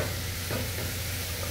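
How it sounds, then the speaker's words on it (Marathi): Browned onions being mixed in a frying pan while making mutton kheema, a dense continuous sizzle with a brief stirring stroke, close and steady. "आता हे मी चांगले मिक्स करून घेते"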